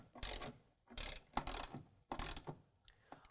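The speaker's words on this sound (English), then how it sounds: "go ahead and tighten that down with a 13mm" A ratchet with a 13mm socket tightens a bolt on a truck step bracket for a 2019 Dodge Ram 1500, sounding as four short bursts of clicking pawl strokes close by, with no speech.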